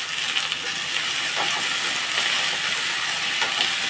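Onions and green chillies sizzle in hot oil in a home kitchen pan, a loud, steady bright hiss with crackling spits throughout, no talk over it.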